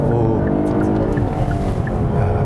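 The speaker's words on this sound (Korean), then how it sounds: "엔진 사운드도 아무래도 6기통인 만큼 상당히 매끄럽고 또 약간은 경쾌한 그런 사운드가 제공이 됩니다." Kia K8 with a 3.5-litre V6 engine pulls smoothly while driving in sport mode, a steady mid-loud engine hum with layered harmonics running continuously under road noise.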